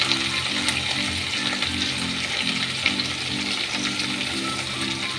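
Chopped onion and a few green chilies frying in a pan for katol fish kalia, a loud, steady, close sizzle with a rhythmic mechanical whir pulsing underneath throughout.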